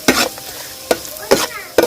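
Ground black pepper powder frying briefly in hot oil while being stirred, with four distinct scraping stir strokes over a soft continuous sizzle, fairly close and clear with no voices.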